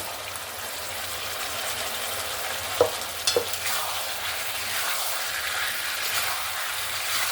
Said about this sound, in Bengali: এবার আমি ভেজে রাখা ফুলকপি আর আলুগুলো দিয়ে দেবো।